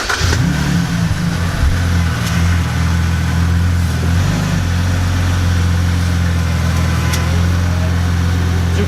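A BMW drift-build car's engine runs loud and close as it is driven into a garage, holding a steady mid-pitched drone with a brief rev and shift in tone near the middle before settling again. No one speaks.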